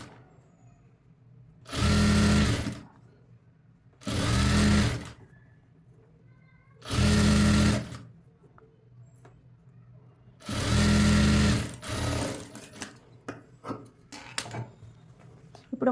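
Sewing machine attaching a hemming strip to blouse piping in four short, loud bursts of stitching with pauses between, followed by lighter clicks and fabric handling.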